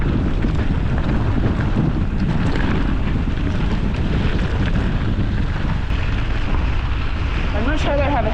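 Wind roars steadily across the microphone during a long bike ride, a loud, continuous rushing buffet that never lets up for the whole stretch.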